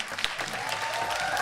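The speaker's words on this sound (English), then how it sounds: "So make a big round of applause for them." An audience applauds young performers at a youth centre launch event, a steady broadband wash of clapping that swells slightly toward the end, with a faint voice underneath.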